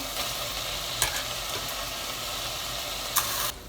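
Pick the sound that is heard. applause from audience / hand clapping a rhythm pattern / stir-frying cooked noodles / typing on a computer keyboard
stir-frying cooked noodles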